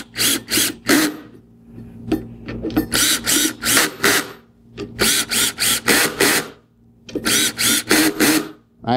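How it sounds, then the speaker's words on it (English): Power drill fitted with a socket drives mounting screws for a whole-house water filter, sounding in repeated short loud bursts of whirring and ratcheting, each run a second or so long and separated by brief pauses. "I have a drill with a socket on it that I'm going to use"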